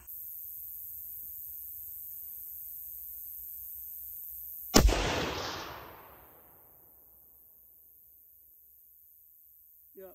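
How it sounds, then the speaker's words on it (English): A single loud shot from a Browning A-Bolt rifle in .270, fired outdoors at a steel target about 170 yards off, with a sharp crack and a decaying echo over steady insect-like background hiss. "Let's take a shot at that steel down there."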